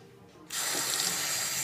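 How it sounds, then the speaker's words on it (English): A kitchen tap is turned on and water gushes steadily into a cup or sink at close range, a sudden onset of dense hiss after a quiet start, with no voices. "We need 1 cup of water, so I need you to turn it on now."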